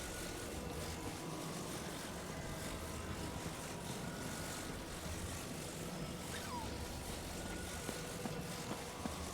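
Propeller aircraft droning steadily in Zelda: Tears of the Kingdom, a dense, even engine hum running unbroken throughout with no talk over it.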